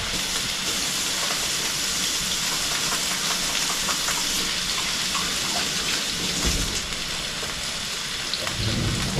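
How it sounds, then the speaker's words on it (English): Food sizzles in a frying pan during meal prep, a steady, close, loud hiss of oil and crackle that carries on without pause. "Get that sizzle going."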